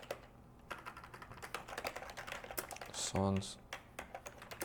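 Computer keyboard typing, with quick irregular clacks and taps heard close up alongside a person speaking quietly, plus one short louder tonal sound midway.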